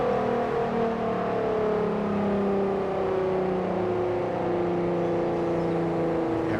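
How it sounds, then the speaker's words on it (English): A Volkswagen MK4 R32 engine in Forza Horizon 4 coasts at low RPM, a steady droning hum whose pitch slowly sinks as the revs fall off, continuous and loud without any voices. "I'm going to try and let it just coast so you can hear some of the lower RPMs"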